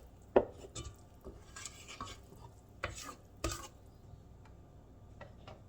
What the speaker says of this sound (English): I'm going to scrape down my bowl